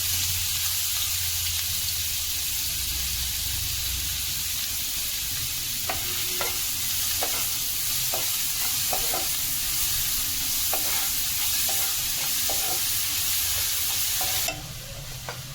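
Onion frying in a pan for a Maharashtrian dried bombil dish, a steady loud sizzle with repeated scraping stirs of a spoon against the pan, close up and without talking.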